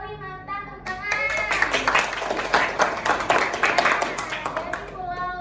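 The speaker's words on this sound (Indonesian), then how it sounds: "Tepuk tangan." A classroom of children claps hands together for about four seconds, a dense burst of quick claps, with young voices before and after.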